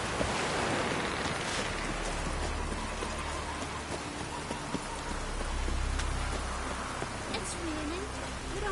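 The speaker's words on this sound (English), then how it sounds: "It's raining." Steady rain falls and patters on surfaces, a continuous dense hiss with scattered drops and a low rumble underneath.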